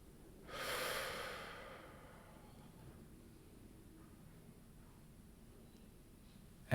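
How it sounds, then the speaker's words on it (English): One deep, slow breath during a meditation session, a soft airy rush near the start that fades into quiet room hiss for the rest of the clip. "You may take a deeper breath at any point of this meditation."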